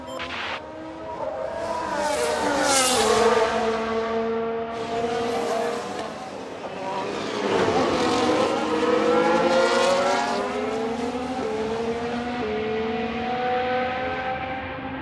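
F1 race cars in the video game F1 Manager 2022 during a Williams career race, engines whining and rising in pitch as they accelerate and pass, loud and continuous with overlapping cars.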